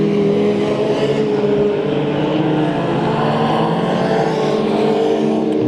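Race cars roar together in a heat race at Bakersfield Speedway, the engines close and loud in one continuous, slightly wavering drone held at full throttle, with no voices.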